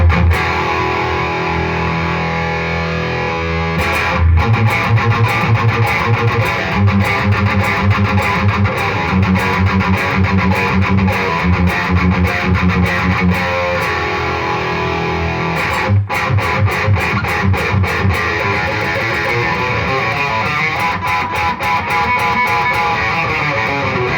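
An ESP USA Eclipse with Bare Knuckle Cold Sweat pickups plays through a 60-watt Mesa Boogie Mark III+ amp, giving a loud, dense distorted tone. Sustained chords and riffs break off briefly around the fourth and sixteenth seconds, with no voices.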